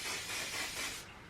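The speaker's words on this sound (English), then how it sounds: "I'm gonna pop a little bit of spray on them." Hairspray is spritzed onto freshly set curls in a short, soft hiss that lasts about a second and then stops.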